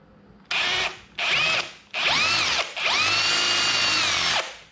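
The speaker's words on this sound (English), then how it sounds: "let the weight of the drill kind of chew through it" A power drill with a 1/2-inch bit countersinks a hole, whirring in four separate bursts, each revving up and winding down with a rising and falling whine, loud and close.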